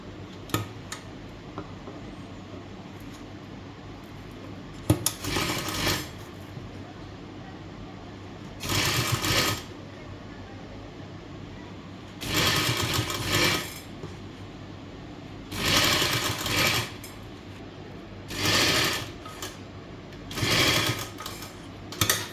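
A sewing machine stitches lace along the sides of a neckline, running in several separate loud whirring bursts of a second or so, spaced by quieter gaps with faint background hum.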